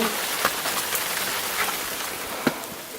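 Rain falls steadily outdoors in Bryce Canyon, a dense, close hiss of drops with a few louder individual spatters standing out, and no one speaking.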